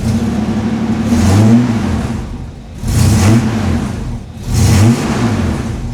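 A Holden VL Commodore engine revved three times in repeated bursts, each rising then falling back to idle, loud and close with no talk.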